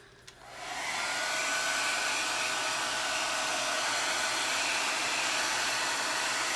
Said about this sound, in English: dry that off with my hair dryer